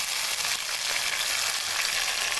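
Chopped tomatoes, two large ones, go into onions browning in a pan for an aloo kofta curry, giving a steady, close, loud sizzle of frying that fills the whole moment with no voices.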